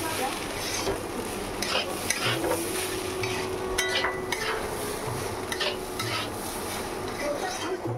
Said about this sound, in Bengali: তো চালটা এবার ঘি দিয়ে ভেজে নিচ্ছি চালটা।